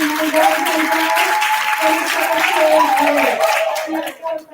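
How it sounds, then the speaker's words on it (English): An audience at a primary school quiz championship claps in a steady burst of applause that fills the room, with voices mixed in, before it thins out and fades toward the end. "A round of applause, ladies and gentlemen, boys and girls."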